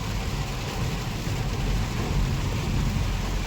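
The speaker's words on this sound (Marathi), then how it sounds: "फुल पाऊस पडतोय जोरात" Steady, heavy monsoon rain near Panvel hisses continuously with a deep low rumble underneath, unbroken and fairly loud from start to finish.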